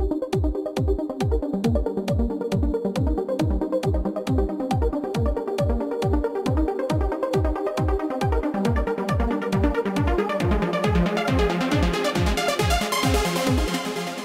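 A synthesized trance arpeggio built in Ableton Live pulses in fast, even notes over a steady kick, loud and close, its tone growing brighter and fuller toward the end.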